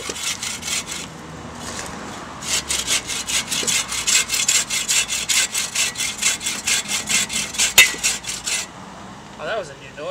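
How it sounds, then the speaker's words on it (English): A hand saw rips through wood in rapid, even back-and-forth strokes, close and fairly loud, slowing near the end of the cut with a brief vocal sound. "I'm almost through. I'm almost through the cut."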